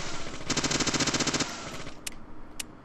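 Rapid submachine gun fire in Deadly Premonition: Director's Cut, a steady close burst of shots lasting about a second, followed by a couple of sharp clicks.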